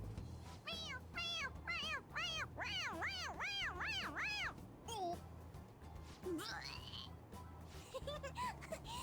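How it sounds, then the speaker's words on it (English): A cat character meows repeatedly in Persona 5 Royal, a quick run of rising-falling cries followed by a few more scattered meows, loud and close with some background game sound. "You don't have to meow."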